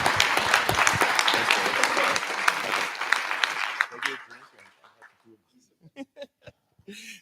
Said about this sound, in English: Can you give me a round of applause for Travis Banks